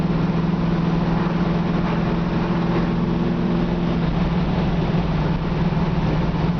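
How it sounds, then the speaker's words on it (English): 1972 Camaro Z28 with a 383 stroker engine cruising around town, its aggressive exhaust a steady, loud, deep drone with a low throbbing tone heard from inside the car. "you can hear how aggressive the exhaust is"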